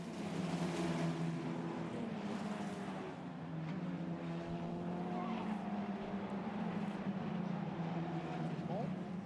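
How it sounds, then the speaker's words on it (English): Racing cars in a 2021 FIA motorsport race, including a red Arden Motorsport car, roar past with sustained engine drone and rising whines, heard steadily under a commentator's talk. "adjar is continuously attacking Alatalo, but the Finn in the red Arden Motorsports car is defending his position well."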